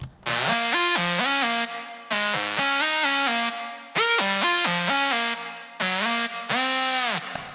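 A bright, buzzy synthesizer lead plays a melodic phrase in bursts, with notes gliding and bending in pitch, loud and alone.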